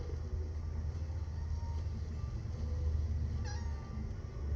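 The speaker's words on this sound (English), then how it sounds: "Why does it meow" A creature in the anime Grimgar: Ashes and Illusions meows, a brief cat-like call standing out over a steady low rumble of background noise, with no talk.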